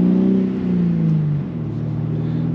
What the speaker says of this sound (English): Some of it's the car making noise.